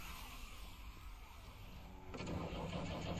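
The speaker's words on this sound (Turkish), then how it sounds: "Araba çalıştırma sesi." A car engine starts up, a broadband mechanical burst that swells to a steady louder rumble after the first two seconds of quieter ambient noise, with no talk over it.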